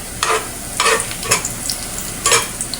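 Garlic frying in a pan for sinangag, a low steady sizzle broken by four bursts of spatula scraping and stirring at irregular intervals, close and clear, with no voices.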